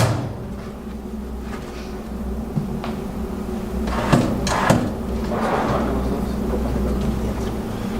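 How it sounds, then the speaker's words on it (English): Office desk drawers in private office furniture are pulled out, with sliding scrapes and a couple of sharp clunks near the middle over a steady low room hum. "We end up taking the drawers apart. Not apart, but out."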